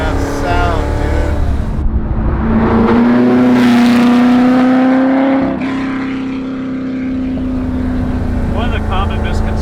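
A loud, deep Superformance Ford GT40 Mk1 replica engine roars and revs up, its pitch climbing steadily before dropping, then settling into a steady rumble, with faint voices underneath.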